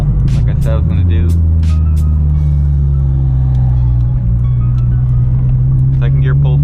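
Tuned K24 engine in an 8th-generation Honda Civic Si pulling hard at full throttle in second gear from around 2,000–3,000 RPM, a loud steady droning roar that rises continuously, with a few brief clicks and sounds over it.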